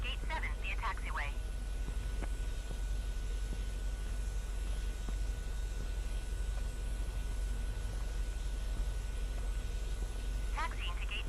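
A Transall C160 cargo plane taxis in Microsoft Flight Simulator, giving a steady, low engine drone that runs the whole time, with brief chirpy radio-like voice bursts at the start and near the end.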